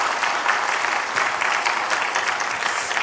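A church congregation applauds its choir in a warm, even burst of clapping that fills the room, dense and steady for the whole stretch without voices.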